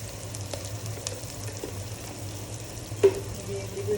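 Chili, cumin and coriander spice masala sizzling in a pan for fish roe bhuna, a soft steady frying hiss with a few faint clinks of stirring, fairly quiet throughout.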